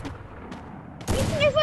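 A sniper rifle shot goes off in a mobile shooter video game, a single sharp loud crack with a ringing tail after a stretch of quieter game background.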